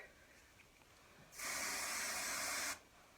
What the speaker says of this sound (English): And then I will root spray right there.